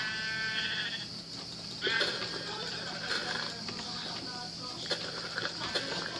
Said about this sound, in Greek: Πρόβατα.